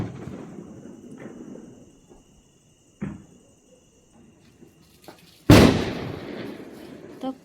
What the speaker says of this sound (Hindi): तो सबसे पहले जलाती हूँ मैं बम।